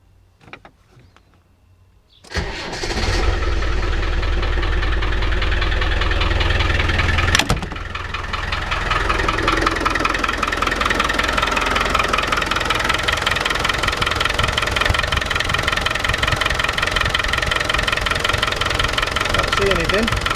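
A Land Rover engine cranks and catches after a couple of quiet seconds, then settles into a loud, steady, slightly knocking idle close by for the rest of the clip.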